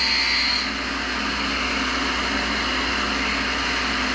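A bench grinder touches up points on twist drill bits by hand, a steady continuous grinding whine with broadband hiss, an extra high pitched squeal in the first moment then an even drone throughout.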